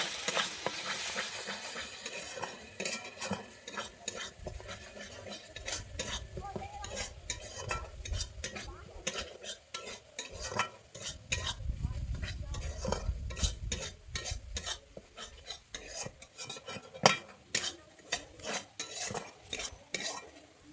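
A spice mixture for a Bengali vegetarian sola kochu curry being fried and stirred in a pan, with dense rapid scraping and clinking of a utensil against metal over a constant sizzle, close and busy throughout.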